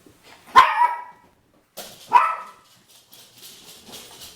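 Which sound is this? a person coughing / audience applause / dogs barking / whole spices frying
dogs barking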